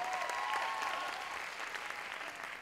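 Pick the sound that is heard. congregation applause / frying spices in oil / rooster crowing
congregation applause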